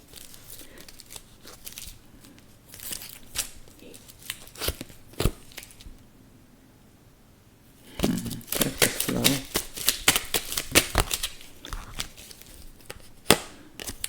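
Crisp riffling and snapping bursts of playing cards being shuffled, in quick clusters with a quiet pause midway, close up and fairly loud.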